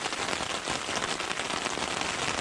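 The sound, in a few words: rain falling on surface outside camp in Arizona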